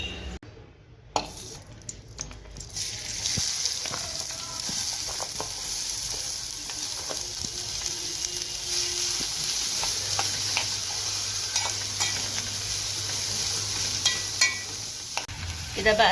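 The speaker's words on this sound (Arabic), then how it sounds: "البصله بعد ما دبلت معانا هنحمرها كمان شويه" Onions sizzle steadily in a pan while a spoon stirs them, with scraping strokes and occasional knocks against the pan under a constant frying hiss; no voices.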